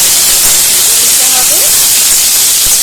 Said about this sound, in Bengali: ভালো করে পটলগুলো একবার ভেজে নিচ্ছি